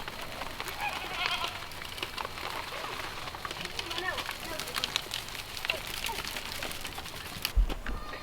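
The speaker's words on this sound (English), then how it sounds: "So I'm gonna hand feed these two goats that are loving this" Two goats are hand fed Swiss chard, with bleating through a steady outdoor wash and a person talking nearby.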